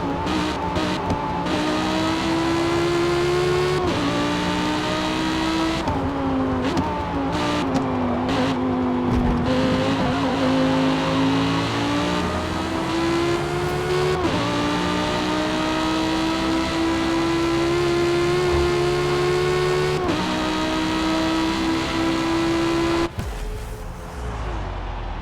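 An Audi race car in Forza Motorsport drives a sustained high-revving lap, its engine note climbing and dropping through gear shifts, loud and close throughout with no talking.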